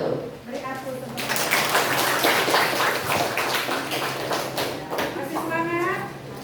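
Audience applause for a group presentation in an Islamic religious studies class, a steady wash of many hands clapping for several seconds with voices at the start and end.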